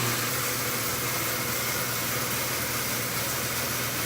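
A Crescent 32-inch bandsaw runs on new 220 power in a shop, a steady broadband whirring roar with a low motor hum underneath, even and continuous at moderate volume.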